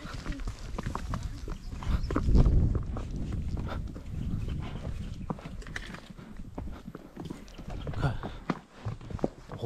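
Horses walking a park trail near Plettenberg Bay, South Africa, their hooves clopping in an uneven, continuous patter close by, with occasional voices and rustling mixed in.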